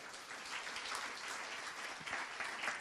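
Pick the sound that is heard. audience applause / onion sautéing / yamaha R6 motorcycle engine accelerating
audience applause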